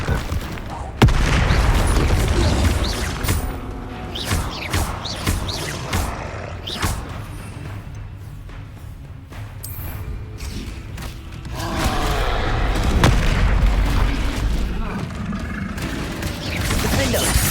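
Bombarda spell explosions in a Harry Potter video game boom and crash repeatedly amid constant battle noise, with thuds and rumbling blasts layered under shouted voices.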